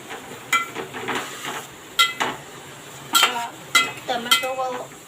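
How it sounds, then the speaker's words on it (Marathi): Onion and tomato sautéing in a pan for tempered rice are stirred with a metal spoon, producing repeated clinks and scrapes against the pan over a light sizzle, while a person talks in between. "आता आपण परत परतून घेऊया."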